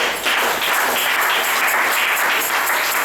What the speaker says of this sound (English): I thought you give a better clapping.